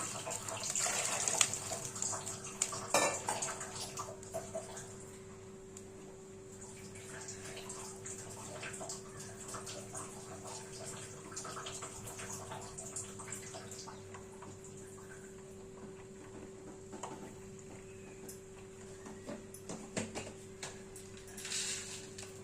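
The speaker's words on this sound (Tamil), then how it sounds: "அதே டம்ளரில் மூணு டம்ளர் ஊற்றிக்கிங்க" Water is poured into a pan in a kitchen while preparing wheat rava, a faint, steady trickle that runs on for a long stretch at low volume.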